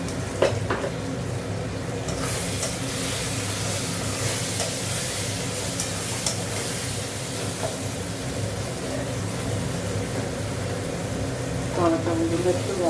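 Tomatoes sizzle in a frying pan while being stirred, a steady close crackle with scraping stir sounds and a voice speaking over it now and then.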